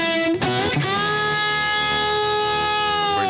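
An electric guitar run through a Getaria Cube Baby combo pedal with a little delay added, with a couple of picked notes near the start ringing out into a long, steady sustained chord whose repeats blend into the tail.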